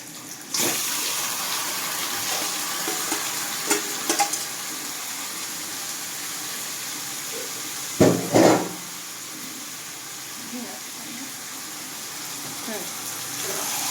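Mutton pieces added to a pan of lightly reddened onions, frying with a steady broadband sizzle, a brief louder clatter of stirring partway through, and a person talking over the cooking.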